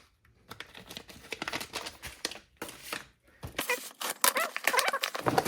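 A parcel for a Honda S2000 VTEC solenoid gasket is unboxed, with a box inside a box and a bag: close crinkling of plastic, cardboard rustles and scattered taps in irregular bursts, with no speech.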